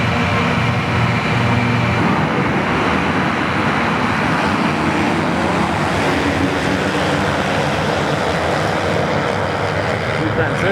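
Race cars roar at a race restart, a dense, loud, continuous engine wash from a pack of cars that holds steady throughout, with voices over it.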